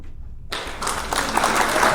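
Clapping sound effect triggered on a live news stream, starting abruptly after a half-second of near silence and continuing as a dense, steady burst of applause at close range.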